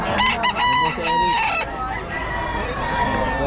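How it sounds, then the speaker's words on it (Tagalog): Gamecocks crowing at a Philippine fighting-rooster gathering, several loud overlapping cock-a-doodle-doo calls close by, with faint background chatter. "Puro winning na itong mga manok ng Boss Eric"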